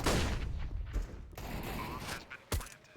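MAC-10 fire in a Counter-Strike match on the Vertigo map rattles out in rapid bursts of sharp shots, loud and close, with a final crisp burst near the end.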